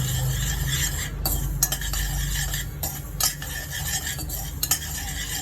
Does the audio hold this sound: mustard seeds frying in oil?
yes